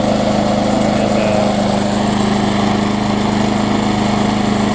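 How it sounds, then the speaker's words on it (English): Bolens self-propelled lawn mower engine runs steadily at close range, a loud, even buzzing drone with a constant low hum and no talk over it. "be a good cheap self-propelled mower for somebody. So let it run."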